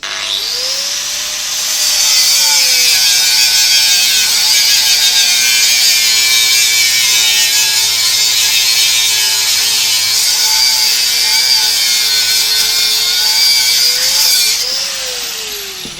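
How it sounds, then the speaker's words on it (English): A power tool cuts off bolts on a workpiece machined on a Bridgeport mill, a loud, steady high-pitched whine and grinding that starts after a short lead-in and holds for about twelve seconds before winding down. "we're just going to cut off the bolts"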